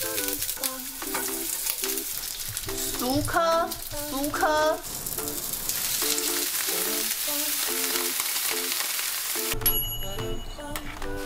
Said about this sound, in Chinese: 我们来煎煎看它吧